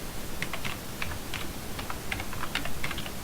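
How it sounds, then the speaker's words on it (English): Quick keystrokes on a computer keyboard as a web address is entered, an irregular run of close, crisp clicks over a low room hum, with no voices. "I've got to type in the address"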